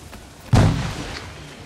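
A grenade explosion in a video game, a single sudden low boom with a short rumbling tail, close and fairly loud.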